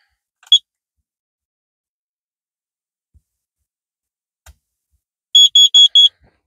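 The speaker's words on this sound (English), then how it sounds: "Carbon monoxide detector is now located right next to my diesel heater controller." Carbon monoxide detector beeping in a camper van near a diesel heater controller: one short beep early, then a rapid burst of four loud high-pitched beeps near the end, with quiet gaps between.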